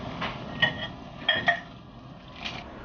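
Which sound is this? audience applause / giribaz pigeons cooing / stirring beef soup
stirring beef soup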